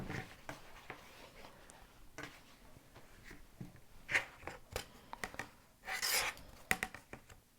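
Scissors cut fabric rectangles for a 12-inch quilt block, making quiet close snips and rustling of cloth in a scattered series, with a few louder crisp cuts near the end.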